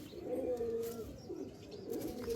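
Andhra pigeons give soft, low coos in a brief close sequence, with faint rustles and movement sounds around them.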